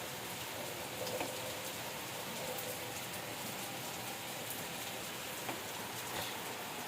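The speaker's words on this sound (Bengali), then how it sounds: "এই সাইডে দেখো এই বৃষ্টির ওয়েদার" Steady rain falls in the Sundarbans at Patharpratima during Cyclone Remal, a dense, even hiss with scattered drops and no voices.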